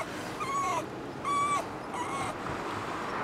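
A puppy whimpers in high, thin whines, three short drawn-out cries in a row, close by over a quiet background.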